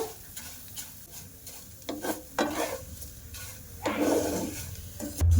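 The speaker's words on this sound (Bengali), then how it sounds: "এবার সিমাইটা আমি লাল লাল করে ভাজা করে নেব আর উনানের জালটা একটু আস্তে করে দেব" Vermicelli (semai) toasting in oil in a frying pan for a spicy semai dish, a soft, steady sizzle broken by several louder scraping stirs, close up with no talking.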